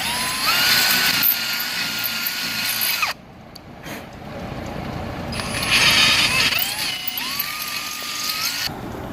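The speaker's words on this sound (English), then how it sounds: "Drill to the holes to catch the strut." A power drill bores holes for an ATV snorkel strut with a quarter-inch bit, running in two loud bursts with whirring pitch shifts and a short pause between them.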